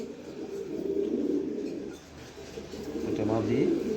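Domestic pigeons kept by a fancier coo in a loft, a soft repeated throaty call rising near the end over steady background murmur, with a voice talking faintly underneath.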